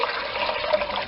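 Water poured into a pot for cooking ham and cheese polenta, a continuous splashing, gurgling stream heard up close for about a second, steady and alone with no voices.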